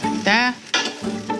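Cheese for a crispy frico frying in a pan, loud close sizzling with bursts of crackling and a brief stirring or scraping stroke, no talking.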